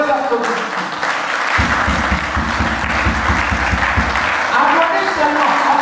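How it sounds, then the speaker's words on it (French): A large crowd applauds steadily while a voice speaks over the clapping, with a low rhythmic beat running beneath. "Sous vos applaudissements."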